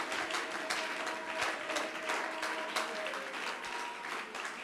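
A church congregation applauding and cheering in praise of the Lord, a steady wash of clapping and voices that holds for several seconds at moderate level.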